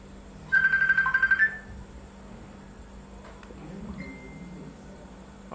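An LG Wing smartphone plays a tonal ringtone for an incoming call, a close, pulsing melodic burst lasting about a second before it cuts off, followed by quiet room noise and a faint later tone.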